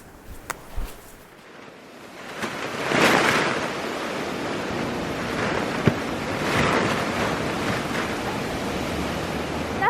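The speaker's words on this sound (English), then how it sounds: "Do you guys hear the wind? I mean, it sounds maybe a little worse in here because of the plastic." Gusting wind buffeting a plastic cover, building into broad rushing surges that rise and fall, loud and close with a few light knocks and flaps.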